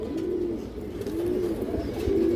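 A silver female pigeon coos in repeated low, throaty phrases close by, over a steady background murmur of other birds.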